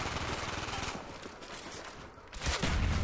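Bursts of automatic gunfire from the Call of Duty Black Ops video game crackle in rapid volleys, easing off briefly in the middle before a loud, dense burst returns, with no talk.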